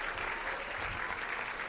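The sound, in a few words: church congregation applauding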